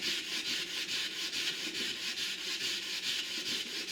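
A steel knife blade is hand sanded toward a mirror finish with steady back-and-forth abrasive strokes, about two per second, a close, even rasping rhythm with no other sounds.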